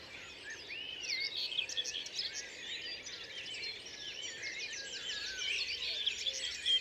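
Wild birds sing in the open, a faint, distant chorus of overlapping chirps, whistles and quick trills that carries on continuously over a soft background hiss.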